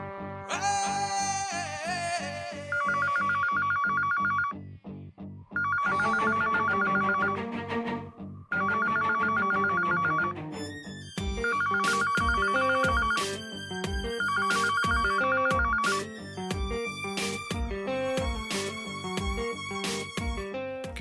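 A telephone rings on and on unanswered in an office setting, its electronic ringtone repeating in steady bursts with short gaps, loud and close with no talk over it.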